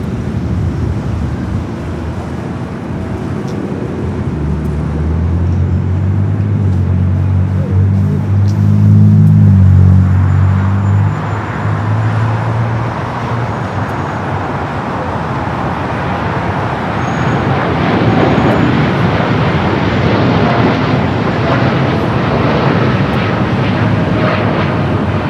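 A United Dreamliner takes off down runway 25 right at LAX bound for Newark, its loud engine roar building through the roll, with a deep rumble peaking at mid-clip before a broad, steady jet roar carries on to the end.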